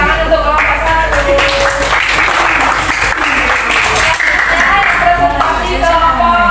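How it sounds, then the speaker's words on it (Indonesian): Classroom audience claps loudly for a group after its presentation in a teacher-training session. The applause runs continuously for several seconds while a voice talks over it. "tepuk tangan untuk kelompok 1."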